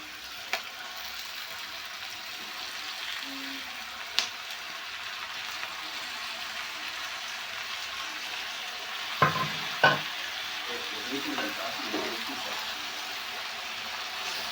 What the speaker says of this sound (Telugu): సో ఇది బాగా కలుపుకోవాలి, మొత్తం ఈ విధంగా వేగేలాగా ఈవెన్గా